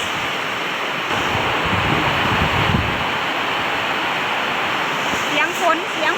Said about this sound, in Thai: เสียงฝนพี่น้อง